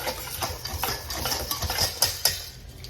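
KitchenAid stand mixer whisking gluten-free cake batter, a steady mechanical whirr with rattling clinks of the whisk against the bowl, close and moderately loud, no voices.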